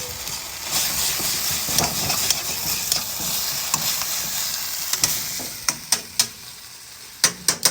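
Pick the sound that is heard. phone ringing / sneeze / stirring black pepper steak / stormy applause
stirring black pepper steak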